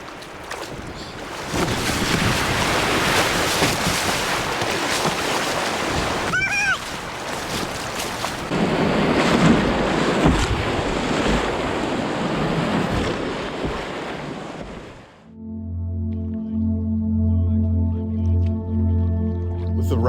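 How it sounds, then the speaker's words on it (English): A canoe runs river rapids paddled with a double blade, with loud, steady rushing water and surf-like noise for about fifteen seconds, then the sound cuts to a quieter, tonal passage. "Never really ran a rapid before with it."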